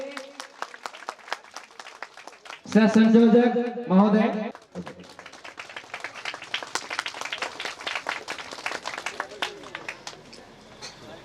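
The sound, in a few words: audience applause at stage event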